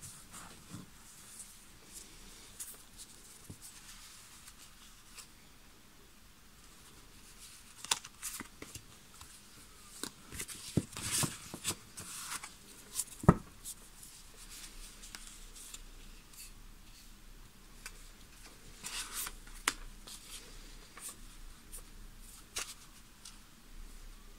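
A deck of tarot cards handled and shuffled up close, soft papery riffles, slides and taps in irregular bursts against quiet room hiss, with no talking.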